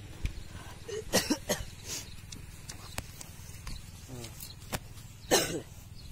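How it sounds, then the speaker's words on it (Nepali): Coughing in a comic skit set at a doctor's visit: several short bursts spread across the moment, with faint background hum and occasional clopping taps between them. "धेरै खोकी लाग्छ"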